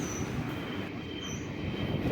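A train pulling out of Wayanad railway station, with steady close rumble and wheel squeal from the railcars, continuous and fairly loud with no talking.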